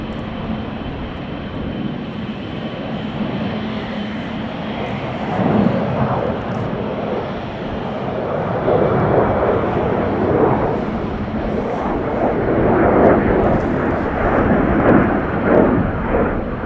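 A China Cargo Airlines airplane taxis up close at Chicago O'Hare, giving a steady, loud jet engine roar with broadband rumble that swells slightly midway and stays strong to the end, with no talking.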